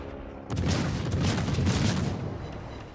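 Warship guns fire in the World of Warships video game as one heavy boom that breaks in abruptly and rolls into a long, loud rumbling tail.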